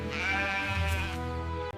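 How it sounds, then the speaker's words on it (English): A sheep bleats in one long, wavering, harmonic-rich cry that lasts nearly two seconds, loud and close, with no talking. "This is a sheep."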